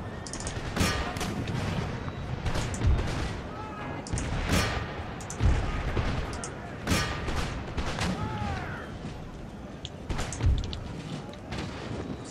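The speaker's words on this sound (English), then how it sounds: "Damnable arty." Artillery fire in a war video game: repeated heavy booms and crackling bursts arrive every second or two over a continuous rumble of battle, with voices mixed in.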